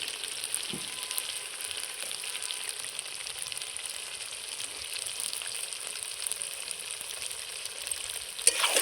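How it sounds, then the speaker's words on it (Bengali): Chicken with chopped tomato sautéing in a spiced red masala, a steady soft sizzle and crackle of frying in the pan, close but fairly quiet, with a brief clink at the end. "এটা দিয়েও আমি খুব সুন্দর করে কষিয়ে নেব"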